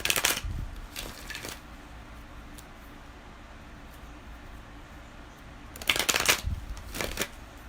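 A deck of tarot cards is shuffled in two short riffling bursts near the start and two more near the end, with soft handling noise and quiet room tone in between.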